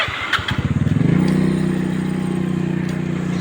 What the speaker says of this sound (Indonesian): Naik motor kamu Mariam.